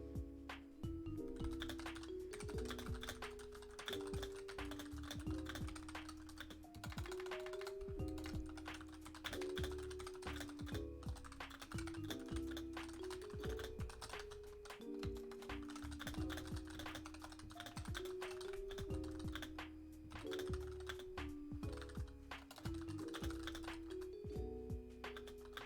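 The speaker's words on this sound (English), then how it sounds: "I'm obsessed with keyboard ASMR." A long stretch of brisk computer keyboard typing, with crisp keystrokes clattering in quick bursts, recorded up close over faint, steady background tones.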